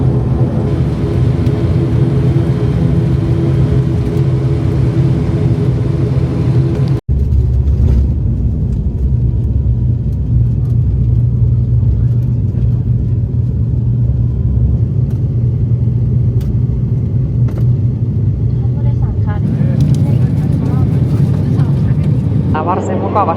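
A constant low, heavy drone fills the cabin of a propeller airliner in flight out of Bangkok, steady throughout, with a person talking over it.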